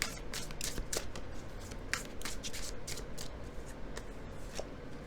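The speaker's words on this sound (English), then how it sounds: "Let's draw a few more tarot cards for you" Tarot cards are shuffled and drawn by hand, giving a steady run of soft papery riffles and sharp card snaps over a low background hiss, close and fairly quiet.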